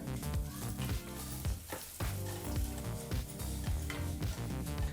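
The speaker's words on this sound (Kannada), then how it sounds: "ಒಂದು ಎರಡು ನಿಮಿಷ ಲೋ ಫ್ಲೇಮ್ನಲ್ಲೇ ಇದನ್ನೆಲ್ಲ ಹುರ್ಕೋಬೇಕಾಗುತ್ತೆ" Cumin, coriander seeds and fenugreek dry-roasting in a pan over a low flame, giving a steady close crackle and sizzle with repeated scraping stirs throughout.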